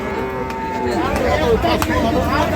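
Cattle, bulls and cows, at a market in Gazipur: a drawn-out low moo rises near the middle, heard over steady crowd chatter and talking voices.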